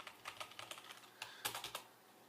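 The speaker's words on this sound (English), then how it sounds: "And alternately I can type on the keyboard" Rapid typing on a computer keyboard connected to an FPGA board, with bursts of close, crisp key clicks in an uneven rhythm and a brief pause in the middle, with no voices.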